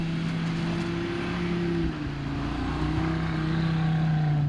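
An Audi RS3 with a manual gearbox pulls away in second gear on a snow-covered rally course, its steady engine drone rising briefly after a short dip, heard from inside the car with no talking.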